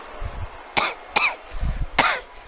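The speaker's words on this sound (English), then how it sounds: "Still dealing with a little bit of a cough" Three sharp, close coughs in quick succession, with low rumbling background noise between them and no speech.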